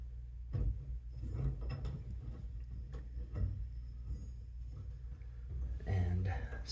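The ratcheting handle of an Ona Puller works on a stuck Moen shower cartridge, giving a series of close, soft mechanical clicks and ticks in an irregular rhythm while someone talks over them.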